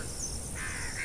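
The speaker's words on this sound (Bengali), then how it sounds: "সকালে পাখির ডাক" Morning birdsong sound effect in an audio drama, a faint crow-like cawing call over a soft, steady background hiss.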